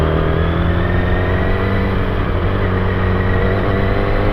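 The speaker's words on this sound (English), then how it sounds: "There's a lot of traffic today." Dense, continuous engine rumble of passing vehicles, loud and steady, like standing beside a busy road.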